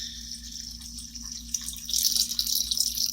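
Water being poured into a bowling ball detox machine: a soft, close trickle and splash that swells louder partway through, over a low steady machine hum.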